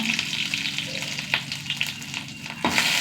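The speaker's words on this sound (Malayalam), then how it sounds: "ഇതിലേക്ക് കുറച്ച് തേങ്ങ കേട്ടോ. ഒരു ഇടി തേങ്ങ." Grated coconut frying in coconut oil with mustard seeds, dried chillies and curry leaves for a tempering, a close steady sizzle broken by a few sharp stirring scrapes, no talking.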